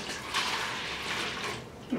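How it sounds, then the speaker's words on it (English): Measured water, about 468 ml, pours into a mixing bucket for all-purpose cleaning gel, a soft, continuous splashing stream that swells and eases over two seconds. "So the amount of water should be 468 ml, already measured, pour it."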